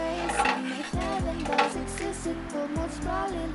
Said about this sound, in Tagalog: haluin na natin ito ng haluin hanggang sa matunaw yung asukal natin